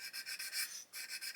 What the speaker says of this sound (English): all I'm going to do is basically keep sanding this area here